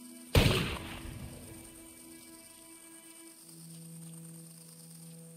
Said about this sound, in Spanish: Los disparos provenían del interior de la casa.